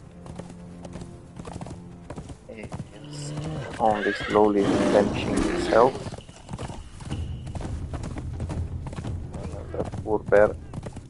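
Horse hooves clip-clop steadily in the Conan Exiles video game, joined by a loud whinny midway, while someone talks over the scene throughout.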